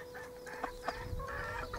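Backyard chickens, including a Millefleur Pekin bantam, clucking softly in a short run of low, close calls.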